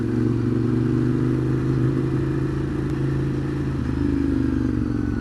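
Riding a 2015 Ducati Monster 821 on Pirelli Diablo tyres, with a steady, loud engine drone and a low exhaust rumble held close and continuous throughout, the pitch easing slightly near the end.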